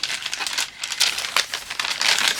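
Paper crinkling and rustling while junk journal pages and a postcard are handled aboard a cruise ship, a close, irregular crackle of crumpling sheets with bursts of louder rustles and no talk.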